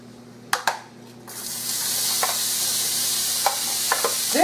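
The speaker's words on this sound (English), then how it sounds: "So in my pan, I'm going to put 1 medium onion." A medium onion hits a hot pan after a couple of sharp clinks, then a steady close sizzle of frying builds and holds, with small scraping taps over it.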